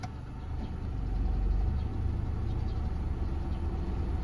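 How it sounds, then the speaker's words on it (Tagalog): A Mitsubishi Lancer Cedia with a 4G18 engine idles steadily at operating temperature around 800–900 RPM with the air conditioning running, a continuous low engine hum heard close up with no talking. "And yung idle natin nasa 900 RPM, 800 RPM. So on tayo aircon."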